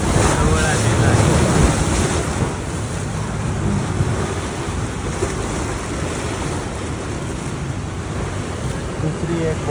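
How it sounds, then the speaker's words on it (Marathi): The Rhine Falls in Switzerland roars right beside a tour boat: a loud, steady, unbroken rush of falling water, with wind buffeting the microphone throughout and no pauses. "धबधब्याच्या अगदी जवळ पाणी माझ्या जवळ आलेलं आहे."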